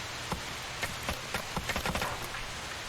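Steady rain falls in the zombie survival game Project Zomboid, a soft even hiss dotted with faint scattered taps and patters, with no voices.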